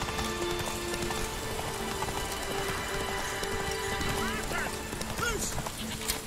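A horse gallops in The Witcher 3: Wild Hunt with rapid, rhythmic clip-clop hoofbeats close by, a brief whinny rising over the steady run, and a voice briefly calling out.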